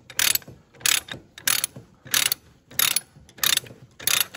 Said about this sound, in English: So I'll tighten this load down. You can hear it ratchet